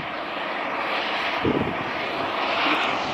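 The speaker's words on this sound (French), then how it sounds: "Il y a un souffle qui se dégage de ces cratères là, c'est incroyable hein." Gas blowing out of the volcanic craters of Hasaidake volcano, a steady broad roaring rush that stays fairly loud and even throughout, with a slight swell midway and no talking.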